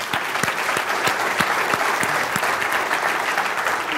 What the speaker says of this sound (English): So please, a round of applause for all the sponsors.